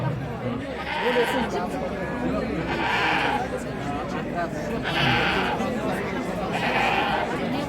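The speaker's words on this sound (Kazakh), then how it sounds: "Испания мемлекетінен келген Мурсия Гранадина деген ешкілері." Murciano-Granadina goats from Spain bleat repeatedly at a goat exhibition, a chorus of overlapping calls under continuous nearby talk and crowd chatter.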